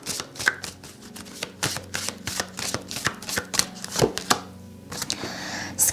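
A deck of tarot cards shuffled by hand, a dense run of quick papery riffles and taps at close range for about five seconds, then settling into a quieter hiss.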